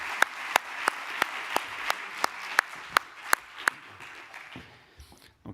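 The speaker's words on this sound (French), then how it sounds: "Je pense qu'on peut l'applaudir" An audience at an epileptology conference gives a speaker a round of applause, a soft steady patter of many hands with a few sharp single claps standing out at a regular beat, fading out near the end.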